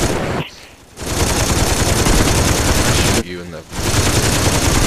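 Dense automatic gunfire in the Saints Row 2 video game rattles almost continuously and loudly, broken by two short pauses, while players talk over the shooting.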